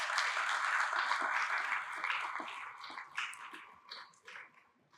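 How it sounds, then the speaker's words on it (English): Audience applause at a school debating competition, a dense wash of clapping that starts full and gradually thins and fades over about five seconds. "I think you should give the teams a rousing round of applause."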